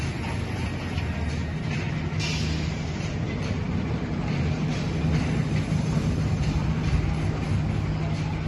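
Icon roller coaster trains at Blackpool Pleasure Beach rumble past continuously, a steady, fairly loud rolling roar of wheels on track with no speech.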